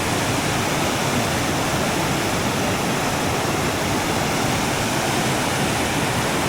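Tad Kong waterfall in the rainy season gives a dense, steady roar of heavy falling water that stays loud and even throughout, with no voices heard.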